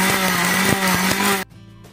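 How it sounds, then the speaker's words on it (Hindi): An electric mixer-grinder jar pulverising cashews whirs loudly with a few pulsing bumps for about one and a half seconds, then stops abruptly, leaving a faint hum. "काजू को भी हम इसी प्रकार से ग्राइंडर जार में डालकर पीस लेंगे"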